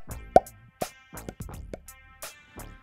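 Short percussive taps echo in a small untreated room with bare walls, each hit trailing quick repetitions and ringing tails, several hits spaced irregularly across the moment, alone without talk.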